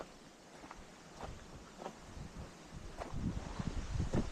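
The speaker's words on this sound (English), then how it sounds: "But it's really windy right now." Gusty wind buffets the microphone in low rumbles that swell toward the end, with faint rustling and footsteps outdoors.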